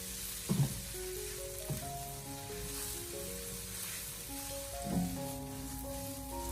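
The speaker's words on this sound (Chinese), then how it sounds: "再把秋葵和鸡蛋重新的放回锅中，再立刻的开大火，将它快速的翻炒2下，把它炒香" Okra and egg tossed in a wok over high heat give a bright continuous sizzle, with a few knocks of the spatula against the metal as music plays softly underneath.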